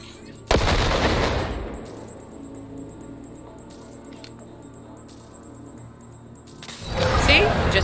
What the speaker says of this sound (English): Now, detonate the grenade.